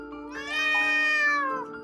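A cat lets out one long, drawn-out meow that rises and bends in pitch, close and clear, with quiet surroundings.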